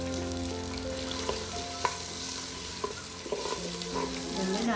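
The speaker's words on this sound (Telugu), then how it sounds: "బాగుంటుంది చికెన్ వేగింది." Chicken frying for an Andhra-style Nati Kodi country chicken curry with garlic, cloves, cardamom, cinnamon, onion and chillies, a steady close sizzle with a few scraping stir strokes and no talk.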